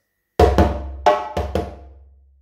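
Five hand strikes on a djembe sound close and loud in a Yankadi rhythm pattern, mixing deep bass tones and sharper slaps in an uneven, lilting grouping, each ringing briefly before the next.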